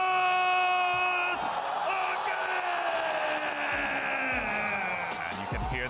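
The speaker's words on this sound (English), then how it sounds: "you can hear the crowd getting rowdy for once again" At the Overwatch Champions Series Hangzhou Major, an esports arena crowd cheers and roars for a Chinese team, a rowdy wash of voices and whoops beneath a commentator talking.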